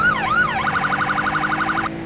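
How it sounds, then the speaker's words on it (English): Police siren on a sheriff's car in a video game, an older-style wail sweeping up and down, then switching to a rapid yelp that repeats loudly before cutting off. "along with your 3 sirens,"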